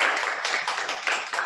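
An audience applauds at a youth party meeting on housing, a steady, close patter of many hands clapping briefly with no voices.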